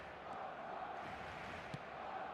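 Stadium crowd at a football match in eFootball 2026, a steady broad roar of thousands of fans that holds evenly throughout, with one brief sharp shout standing out near the end.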